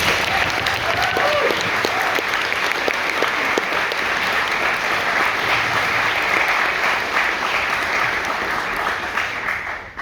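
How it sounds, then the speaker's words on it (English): Sustained applause from an audience at a debating tournament closing ceremony, dense and steady for about ten seconds with some faint voices mixed in, tapering slightly at the end. "Please give a round of applause to them."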